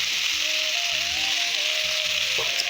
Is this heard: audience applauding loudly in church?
no